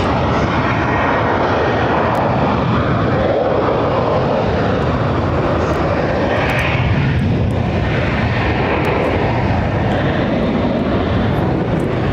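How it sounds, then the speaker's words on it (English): A Turkish Airlines Airbus A330 departs from Barcelona, its engines giving a loud, constant roar that fills the whole stretch with no break, heard from nearby. "So here, Turkish operates the A330 aircraft, and that is midday connection, like this one."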